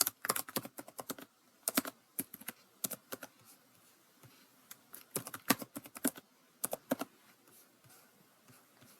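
Fast bursts of keystrokes on a computer keyboard as a street address is entered into a form, sharp clicks in clustered runs with short pauses, close and clear with no talking.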